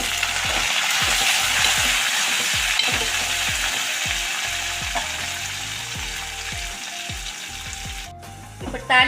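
A pan of Andhra-style thotakura chukkakura pulusu, an amaranth and sorrel leaf curry, sizzles steadily while a spoon scrapes and stirs it in repeated rhythmic strokes, close and fairly loud.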